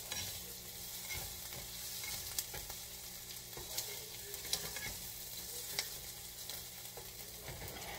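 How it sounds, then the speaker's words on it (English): Onions and hamburger meat sauté in a pan for an Amish country casserole, giving a constant close sizzle with occasional stirring clicks and scrapes. "You don't have to saute your onions for a whole 3 minutes."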